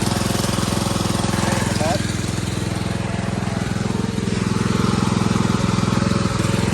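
An old junk lawn mower runs loud and rough with a fast, pulsing chug throughout, and someone talks over it.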